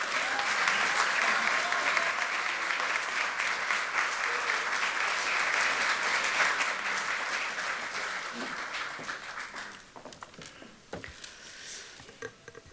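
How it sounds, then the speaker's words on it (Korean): A party assembly of National Assembly members claps in welcome for a deputy speaker candidate, a long loud sustained applause that thins and tapers into scattered claps near the end. "뜨거운 환영의 박수 부탁드리겠습니다."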